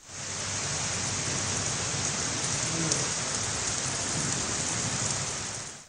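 Steady heavy morning rain in Mianwali with thunder, a dense even hiss of downpour throughout with a faint low rumble, no voices.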